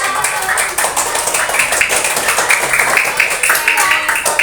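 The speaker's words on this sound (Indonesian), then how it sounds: "Ayo tepuk tangannya mana?" Students applauding in a classroom, a close, continuous patter of many hands clapping with a slightly rhythmic pulse, lasting several seconds.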